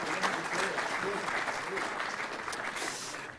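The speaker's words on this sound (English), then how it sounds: "Big round of applause." Dense, steady applause from an awards-night audience at a TAC Cup best and fairest presentation, fairly loud and sustained throughout with a few faint voices mixed into the crowd.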